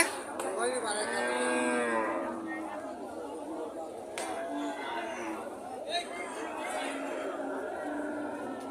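Cattle lowing at a busy livestock market near the Indian border, with several long moos in the first few seconds over steady crowd chatter and background voices throughout.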